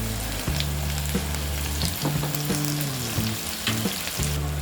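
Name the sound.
okra (bhindi) frying and being tossed in pan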